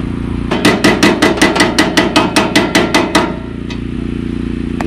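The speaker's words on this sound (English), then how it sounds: "Yes, this is an OSHA approved hammer." A hammer strikes about a dozen times in a quick, even rhythm, loud and close, over a steady background hum, with no talking.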